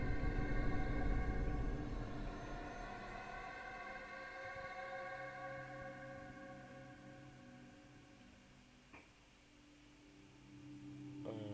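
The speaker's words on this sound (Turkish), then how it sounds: "Bir de siren çalıyor." A siren in the video game Portal 2 wails steadily at moderate volume, its tone slowly falling and fading across the stretch, with a brief dip near the end.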